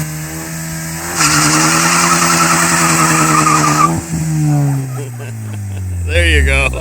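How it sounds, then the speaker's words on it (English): Ford Focus ST in a burnout, engine revving hard as the tires spin and squeal loudly and steadily, then the revs drop and rise again at the end. "More revs and get those tires spinning."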